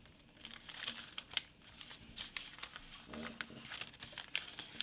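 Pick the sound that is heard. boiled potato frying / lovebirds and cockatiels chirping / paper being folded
paper being folded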